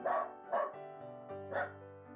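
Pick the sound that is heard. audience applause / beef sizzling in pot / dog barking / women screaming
dog barking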